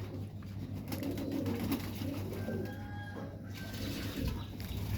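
Pigeons coo steadily in a loft during their morning bath, with soft repeated calls over a constant low hum, water splashes and some fluttering nearby.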